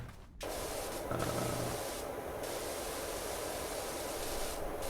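A pressure washer in the video game PowerWash Simulator sprays steadily, cleaning the body of the Mars Rover with a continuous loud hiss that fills the scene after a brief quiet start, with small shifts in tone.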